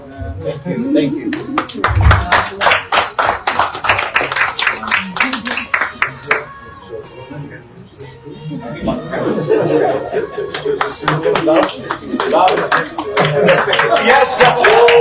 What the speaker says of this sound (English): we will give him a round of applause.